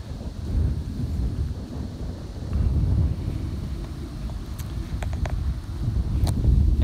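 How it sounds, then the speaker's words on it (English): Steady wind blowing across open farm country near a barbed wire fence, a continuous low rumbling buffet on the microphone that swells and surges, with a few faint higher ticks near the end. "Wind's picking up a little bit."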